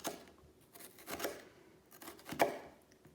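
Knife cutting small slits into a shallot on a board, a few quiet short crisp snips and taps spaced irregularly, close and faint with no talking.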